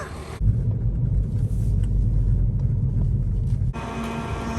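An old Toyota Celica pulls away on a road, its engine giving a low, loud rumble that holds steady for several seconds. The sound begins and ends abruptly, and there are no voices.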